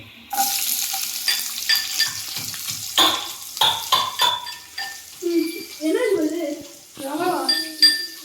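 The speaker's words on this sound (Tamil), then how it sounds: "கடுகு பொரியல் சத்தம் வரட்டும்." Mustard seeds crackle and pop in hot oil in short bursts, while voices talk over the spluttering nearby.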